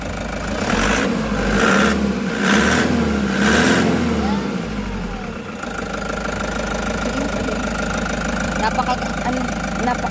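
A 2017 Toyota Hiace Commuter diesel engine idles with a steady, close mechanical rumble, while someone talks over it in the first half.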